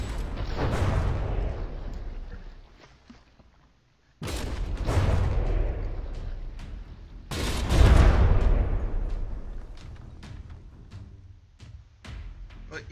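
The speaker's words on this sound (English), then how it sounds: "The forces of the explosions on some of these shots are, pretty crazy." Heavy bursts of gunfire and booming explosions from the warship battle game From the Depths, in quick volleys, loud and close, with brief lulls between waves of blasts.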